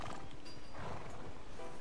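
A horse gives a brief, rough neigh close by in a town in Red Dead Redemption 2, over a noisy rustling background with faint hoof sounds.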